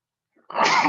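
A single loud, close human sneeze bursts out after near silence, with a faint intake of breath just before it.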